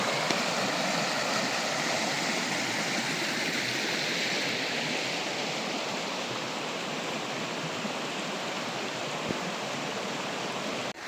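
A river rushes past at a crossing point, a loud, constant broadband roar of flowing water that holds steady throughout with no talking.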